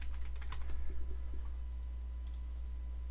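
Computer keyboard keys and the spacebar tapped in a quick cluster of clicks at the start, then sparse taps, faint over a steady low hum.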